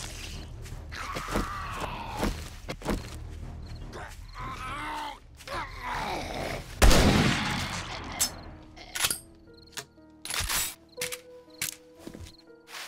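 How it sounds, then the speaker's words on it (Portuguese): Gunshots ring out in the survival game 7 Days to Die with the Ravenhearst mod, several sharp reports spaced apart among grunts and game noise, one especially loud blast midway. "Mais um tiro ali."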